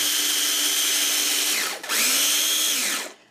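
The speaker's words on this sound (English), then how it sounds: "A pinch of salt into 1 cup of the oats, and just grind these up until they're very fine." A blender grinds one cup of oats with a pinch of salt into fine flour, a loud, high whirring motor that briefly dips mid-run, surges again, then winds down and stops.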